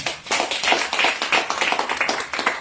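A church congregation clapping together in a quick, steady rhythm, close and fairly loud, with no voices over the claps.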